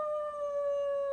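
A narrator's voice imitates a dog howling, one steady drawn-out tonal howl held for just over a second, clear and close with no other sound.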